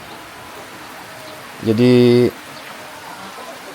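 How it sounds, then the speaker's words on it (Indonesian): Rain falls outdoors during an FPV drone flight as a steady, soft hiss, with one brief spoken word rising over it midway. "Langsung hujan nih"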